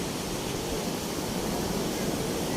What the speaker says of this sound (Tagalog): Yun, ang ganda ng alon.